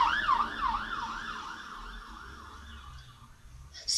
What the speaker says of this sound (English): It was an ambulance, so someone's got hurt.